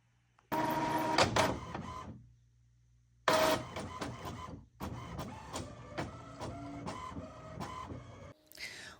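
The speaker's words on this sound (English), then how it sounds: "So I go to print, and it prints out for me." An embroidery-shop printer runs a job printing a pattern onto paper, a loud dense mechanical whirring in bursts with a short pause, then steady printing through to the end.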